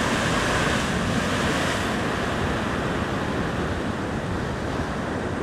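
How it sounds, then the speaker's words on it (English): Massive ocean swell crashes and surges at the Avoca rock fishing spot, a continuous loud roar of surf with some wind rumble on the microphone and no speech. "It's a crazy swell today. Really low wind, but the swell is massive."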